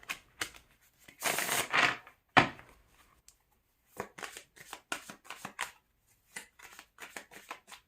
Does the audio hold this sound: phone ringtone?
no